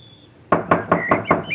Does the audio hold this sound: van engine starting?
no